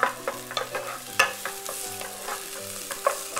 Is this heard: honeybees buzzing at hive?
no